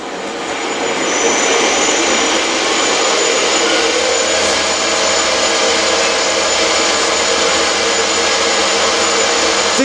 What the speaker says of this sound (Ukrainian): Зараз ми спробуємо міліметр, але зразу давайте поставимо тисячу обертів